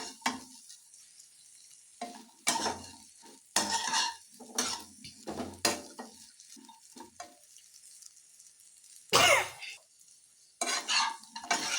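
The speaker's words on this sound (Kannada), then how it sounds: "ಒಂದು 2 ನಿಮಿಷ ಚೆನ್ನಾಗಿ ಫ್ರೈ ಆಗಲಿ. ಸಾಸ್ ಜೊತೆ ಚೆನ್ನಾಗಿ ಫ್ರೈ ಆದರೆ" Chicken manchurian fries with sauce in a pan, with repeated bursts of stirring and scraping of a utensil against the pan alongside soft sizzling, separated by quiet pauses, close and fairly loud.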